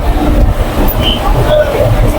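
A train rumbles heavily and continuously as it rolls into Howrah station, with people talking over the loud clatter.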